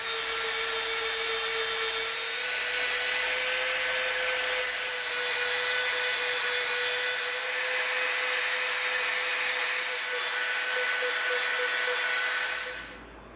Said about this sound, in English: So we're gonna get the Dremel out, get our dust mask back on, and we're gonna start to shape this